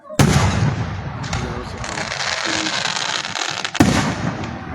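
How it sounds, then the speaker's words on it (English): Fireworks explode at a Gouverneur, New York display: a sharp loud burst opens, crackling and popping continue nearby, and a second strong blast lands near the end. "Gouverneur fireworks."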